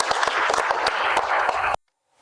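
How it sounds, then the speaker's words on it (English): A group at a youth basketball and education programme claps for a little under two seconds, with a few sharp individual claps standing out, before the applause stops abruptly into near silence. "Oh, y'all clap it up."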